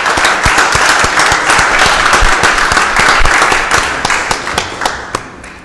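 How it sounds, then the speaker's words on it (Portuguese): A round of applause saluting the national flag at the opening of a council meeting; loud, close clapping from the assembled members, thinning to scattered claps near the end. "saudemos o pavilhão nacional com uma salva de palmas"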